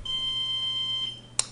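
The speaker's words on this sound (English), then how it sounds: "That particular item is below the horizon, so we got the alarm sound from Nexus." A Nexus DSC telescope controller sounds its alarm, a series of high, thin electronic beeps pulsing evenly over a faint hum, close and clear, ending with a brief sharp click.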